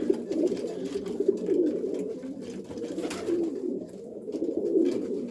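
Racing pigeons coo inside a loft, a continuous chorus of overlapping low, throaty coos with soft rustling, steady and fairly close, with no talking.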